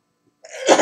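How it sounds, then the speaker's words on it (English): A single sharp sneeze bursts out close up after a brief silence. "I'm gonna sneeze."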